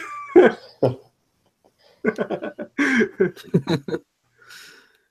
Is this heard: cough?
yes